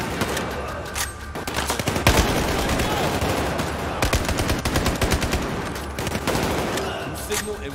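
Dense, continuous gunfire from the video game Battlefield 4, with overlapping machine-gun bursts and sharp single shots forming a loud, sustained fusillade throughout, with occasional indistinct voices beneath.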